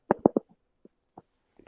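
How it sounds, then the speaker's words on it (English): A few short, throaty burps in quick succession near the start, followed by softer scattered gulping sounds with quiet pauses between. "I have a lot of burping problems tonight."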